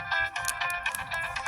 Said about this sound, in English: Got a phone call there